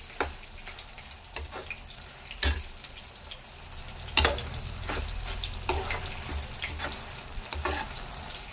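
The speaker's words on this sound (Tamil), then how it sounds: "இப்போ அதை வறுத்து போட்டு ஒரு 2 நிமிஷம் அந்த ஈரம் இன்னும் நல்லா வத்துற மாதிரி நெய் போட்டால் தான் அந்த ஈரம் வற்றும்" Grated carrot frying in ghee in a pan for carrot halwa: a soft, steady sizzle broken by repeated sharp scrapes and taps of a stirring spoon against the pan, fairly quiet.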